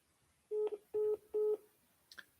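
Three evenly spaced DTMF keypad tones from a phone dialer starting a cold call session, clear and close, followed by a faint short click; no talking.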